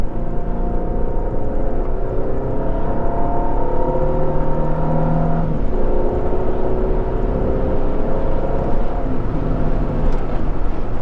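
A 2014 Mercedes-Benz E400 engine hums steadily from inside the cabin, its tone shifting as the driver downshifts manually, with a smooth, moderately loud whir throughout.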